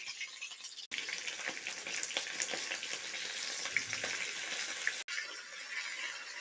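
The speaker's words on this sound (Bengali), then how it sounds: "গরম হলে তেল গরম হওয়ার পর এরপর আমরা এর মধ্যে ছেড়ে দেবো আলু" Potatoes crackle and sizzle steadily in hot oil in a kadai, a continuous close frying hiss with small pops throughout.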